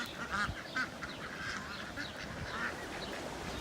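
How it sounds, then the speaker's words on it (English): Ducks quack several times beside flood irrigation water running in the Arizona desert, faint, short calls over a steady wash of flowing water. "I think the ducks are excited."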